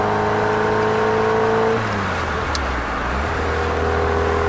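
A Triumph Spitfire MkIII, its cylinder head freshly rebuilt, drives along with a steady engine drone that drops in pitch as revs fall, then settles into an even cruising hum, close and loud inside the car.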